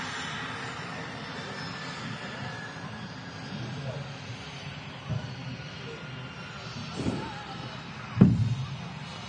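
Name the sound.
Turkish Airlines Airbus A330-300 at Manchester Airport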